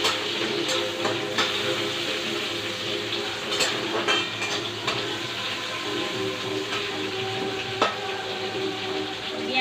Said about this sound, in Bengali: এই শাকটা ভেজে নিই।